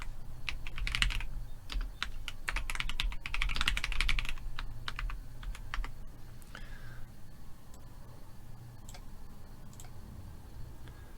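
A computer keyboard clatters with rapid bursts of typing, dense keystrokes early that thin into sparse taps, close and alone over a faint background hum.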